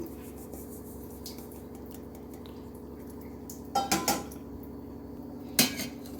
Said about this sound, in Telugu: వేసుకొని పైనుంచి కిందకి మొత్తం కలిసేలా కలుపుకోవాలండి